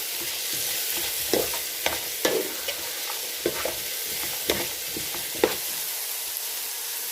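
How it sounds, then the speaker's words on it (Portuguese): Broccoli stems and onion sautéing in a pan, a steady sizzle with sharp scraping strokes from a stirring utensil at irregular intervals, close and clear with no voices. "agora eu vou refogar ele junto com essa cebola"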